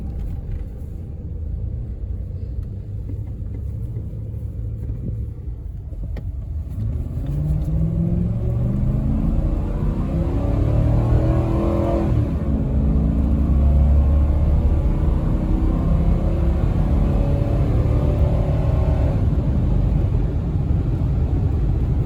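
A 2005 Ford F150 XLT king cab 2WD pickup with the 5.4 engine drives off, its low rumble swelling as it accelerates through gears and then settling into a steady, close cruising drone.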